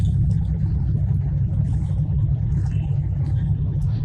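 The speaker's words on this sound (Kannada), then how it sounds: "ಎಲ್ಲ ಓಲ್ಡ್ ವಿಂಟೇಜ್ ಕಾರ್ಸ್ ಬಂದಿದ್ದಾವೆ." Vintage car engines idle at a gathering of old cars and big superbikes in Hampi, giving a steady, dense low rumble that holds evenly throughout with no pauses.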